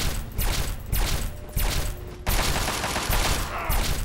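Rapid bursts of gunfire in the video game Fallout 3, several loud close shots cracking in quick succession with a denser volley near the end.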